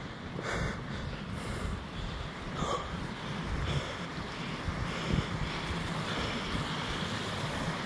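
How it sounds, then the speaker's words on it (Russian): Mountain stream water rushing on a hike up a peak in Krasnoyarsk Krai, a steady broadband roar with no breaks, moderately near and fairly quiet, heard alone without talk. "Водичка шумит."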